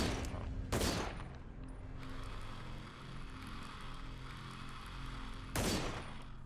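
Shots fired at a target in a video game, two sharp broadband bursts about five seconds apart, loud and close, over a steady low mechanical game ambience.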